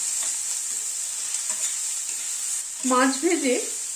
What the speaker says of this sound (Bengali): পেঁয়াজটাকে এবার একটু কালো জিরে শুকনো লঙ্কার সাথে ভেজে নিচ্ছি।